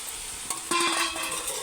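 Bottle gourd pieces frying in a pan for sorakaya pachadi as tamarind and tomato pieces go in, a steady sizzle that suddenly grows louder and brighter after a short clatter, then continues hissing, with no talking.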